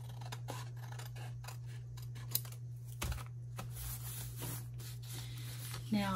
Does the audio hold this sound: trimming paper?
yes